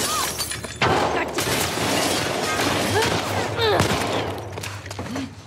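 Gunfire in The Last of Us Part 2 set against chaotic combat noise, with a sharp shot and breaking, shattering crashes, while voices shout over the action.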